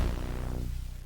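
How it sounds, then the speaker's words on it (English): A single synth pluck from the Serum software synthesizer with the sustain turned fully down and a long filter envelope, its bright attack sweeping down and darkening as it decays over about a second, alone. "Take the sustain all the way down so we have a nice pluck"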